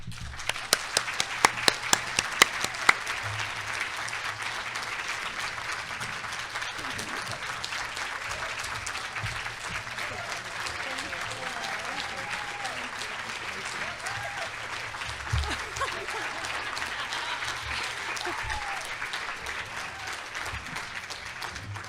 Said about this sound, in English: please give a hearty round of applause to Angela